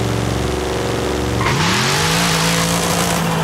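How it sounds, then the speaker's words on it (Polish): Game car engine in Forza Horizon 5, held at full throttle against the brake before launch, a loud sustained roar that drops and then climbs back to a steady high rev, with no voices. "jak stoicie i samochód wam gazuje do końca"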